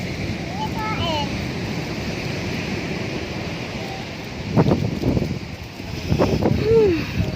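Strong sea waves rolling against a rocky shore at a fishing spot, a continuous loud wash of surf and wind rumble with swelling crashes late on, while children and other voices talk over it.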